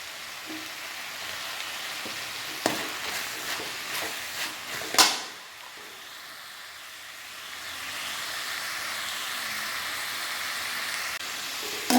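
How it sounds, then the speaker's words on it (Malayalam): Chopped tomatoes frying with onions in a pan for Kerala chicken roast, a soft steady sizzle with a few clinks of stirring early on, then a broad hiss that swells and holds toward the end. "എനിക്ക് രണ്ട് തക്കാളി അരിഞ്ഞത് ചെറുതായിട്ട് അരിഞ്ഞതാണ് കേട്ടോ ചെറുതായിട്ട് അരിഞ്ഞത് ചേർക്കാം"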